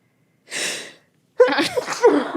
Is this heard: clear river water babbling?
no